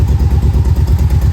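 A Yamaha Vmax motorcycle engine runs after starting, a loud, close, throbbing rumble with a fast, even pulsing beat and no voices over it.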